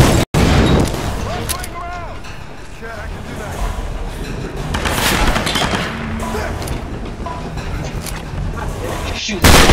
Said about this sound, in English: Shooting from the side.